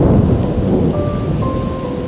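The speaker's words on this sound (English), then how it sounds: "Just when the rain seems to be clearing up, lightning flashes and we learn how Noah felt." A heavy thunderstorm over a city: dense, loud rain roars steadily while low rolling thunder rumbles underneath, with a faint thin tone drifting in partway through and no voices.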